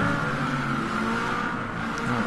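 Race car engine in the video game Flatout: Ultimate Carnage, with a lost exhaust, giving a loud continuous distorted drone with steady low harmonics and a rough, messed-up tone throughout, without speech.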